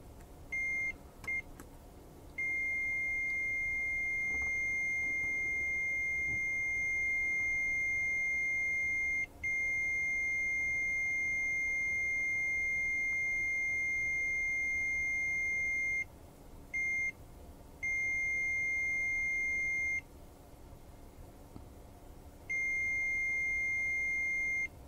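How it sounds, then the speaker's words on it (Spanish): A Mustool MT111 touchscreen pocket multimeter gives its continuity-test beep: a steady, piercing electronic tone held for long stretches and broken by several short gaps and brief chirps, alone and close. "Voy a hacer la prueba de continuidad y quiero ver en cuántos ohmios tengo el bip."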